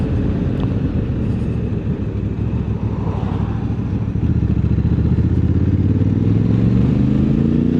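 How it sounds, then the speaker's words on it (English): A 2024 Honda Africa Twin Adventure Sport with a dual clutch transmission rides along a road in the hard suspension setting. The engine note is loud, close and continuous with a slight bark, and it swells toward the end as the bike accelerates. "Engine has a little bark."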